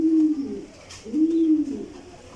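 A hen racing pigeon of imported breed coos while held in hand, two soft throaty rolling coos close up, with no talking.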